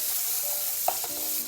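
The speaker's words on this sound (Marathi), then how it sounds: "पॅन मध्ये पहिले बटर ऍड करू। आपण जिरा ऍड करूया। त्याच्यामध्ये आता आपण शिमला मिरची ऍड करू" Chopped capsicum frying in butter with cumin seeds in a pan, a steady close sizzle with a small scrape or stir near the middle and no voices.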